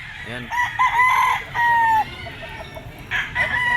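Chickens and roosters at an open-air pet market, with repeated nearby clucks and crowing calls in bursts and a busy crowd murmuring underneath.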